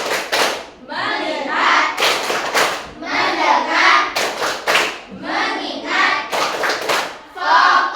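Children and a teacher in a classroom perform the tepuk fokus clap game, sharp rhythmic bursts of hand clapping in short patterned groups alternating with chanted words between each set.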